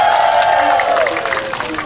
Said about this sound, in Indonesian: Tepuk tangan untuk warna putih.